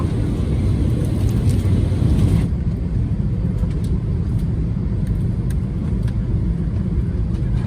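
Inside an American Airlines airplane cabin during landing, a loud, steady low rumble of engines and airflow fills the space, easing slightly after a couple of seconds with faint clicks and rattles on top.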